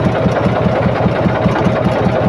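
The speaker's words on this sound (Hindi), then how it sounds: "लोड आ रहा है और इंजन पूरी तरह से दब रहा है" A tractor engine labouring under hydraulic load while trying to lift a trolley, with a fault restricting oil pressure, gives a steady, close, low rhythmic chugging throughout, with no voices.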